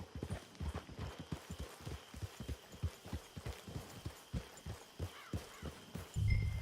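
Horse hooves clip-clop in a steady walking rhythm on a trail in Red Dead Online, close and clear with ambient game sound beneath and a low thump near the end.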